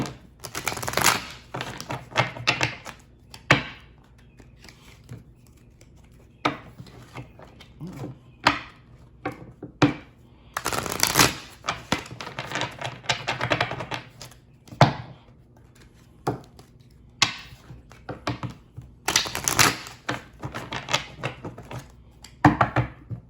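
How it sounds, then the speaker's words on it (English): Cards are shuffled in repeated quick riffling bursts, crisp and close, separated by short pauses, with no talking. "Let me give these a quick shuffle."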